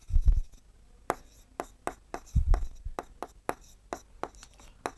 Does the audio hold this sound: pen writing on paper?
yes